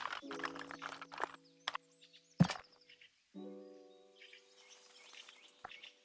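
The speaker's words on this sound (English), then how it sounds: "There's so many bird sounds in this game." Birds chirp in the cozy building game Tiny Glade, bright tonal calls with a few sharp clicks and placement thunks, quiet and intermittent against near silence.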